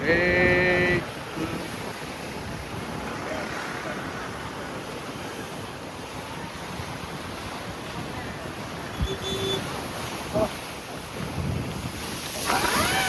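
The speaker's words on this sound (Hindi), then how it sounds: "भाई लहरें देखो कितनी ज़्यादा ऊपर उठेगी, देखना।" Strong, high sea waves surge and crash along a road at India's southern tip, flanked by sea on both sides, a continuous loud roar of surf mixed with heavy wind buffeting the microphone.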